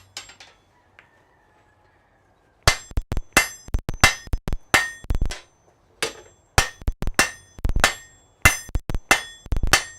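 Blacksmith hammering hot glowing metal in a smithy: after a quiet start with faint rustling, sharp ringing hammer blows strike in quick pairs and steady runs, loud and near, with no talking.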